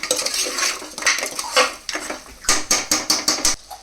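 A utensil stirs crab rasam in a metal pot, scraping and clinking in quick strokes, with a run of sharp, regular scrapes near the end, close and alone without talk.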